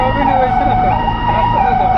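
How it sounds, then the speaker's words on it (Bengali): An ICU ambulance from Mount Adora Hospital sounds its siren at a rescue drill, a loud, continuous wailing tone close by over engine rumble. "মাউন্ট অ্যাডোরা হসপিটাল থেকে একটি আইসিইউ অ্যাম্বুলেন্স চলে এসছে আমাদেরকে সাপোর্ট করার জন্য।"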